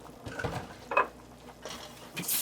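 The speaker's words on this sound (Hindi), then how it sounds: "2 से 3 मिनट इसको अच्छी तरह से फ्लावर को रोस्ट करें बटर के साथ" Flour roasting in butter in a pan for baked mac and cheese, stirred with a spoon: brief scraping and soft sizzling patter, a few light utensil taps, close and fairly quiet.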